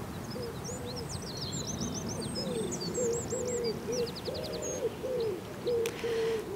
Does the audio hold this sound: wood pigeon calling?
yes